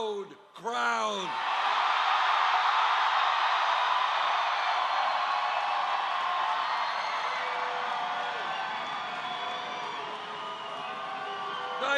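Loud, sustained crowd cheering and whooping at an evening political rally, filling the whole stretch after a brief shout at the start and staying dense and near throughout.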